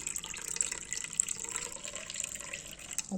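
Water pours into plant cups holding water-grown plants, a steady close splashing trickle running throughout with no talking.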